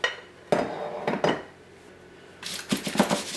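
A cake pan of oil-free, butter-free batter is shaken on the counter to level it, giving a few separate metallic clatters and rattles, then a quicker run of knocks close by with no talking.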